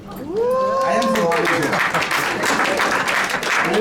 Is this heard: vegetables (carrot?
no